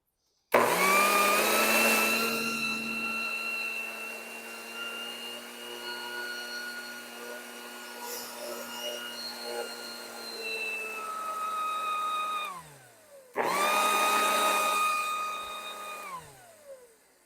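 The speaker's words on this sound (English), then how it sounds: "It works, but it just seems like it's dragging a little bit, like the motor's straining at high speed." A motor on used lawn equipment whines at high speed with a strained, dragging tone, running about twelve seconds, cutting off and winding down, then starting again briefly before stopping; no talk.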